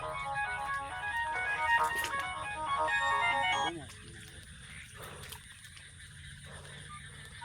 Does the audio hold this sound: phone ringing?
yes